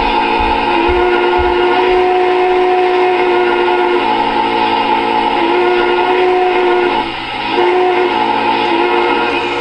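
An MTH model train whistle, operated through the DCS WiFi app, sounds in long sustained tones, briefly dipping and resuming, over a low rumbling hum.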